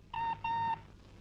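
Two short electronic ring tones from a telephone, the second longer than the first, fairly quiet indoors with a faint low hum beneath and no talking.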